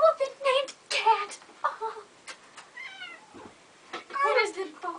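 A cat meows several times in drawn-out, wavering cries, close by and mixed with people talking over and between the calls.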